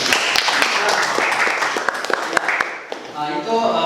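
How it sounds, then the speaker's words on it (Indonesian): Students in a classroom lesson clap in a brief burst of scattered applause with sharp individual claps, and a voice speaks near the end. "Coba tepuk tangan dulu buat."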